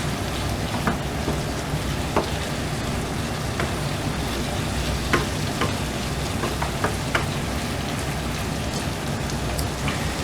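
Prawns and vegetables crackle and sizzle steadily in a pan for fried prawn rice, a dense close frying hiss with scattered sharp pops throughout and no voices.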